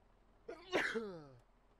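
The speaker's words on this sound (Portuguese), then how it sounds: "Ele vai espirrar, né?" A character in the horror game Five Nights at Shrek's Hotel 2 lets out one quick, voiced sneeze. It has a rising intake and a sharp burst that trails off, alone over near silence.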